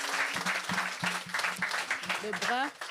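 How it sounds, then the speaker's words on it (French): A church congregation applauding at a healing and baptism service, steady clapping throughout while someone speaks and exclaims over it, his voice rising at the end. "Acclamons pour Jésus."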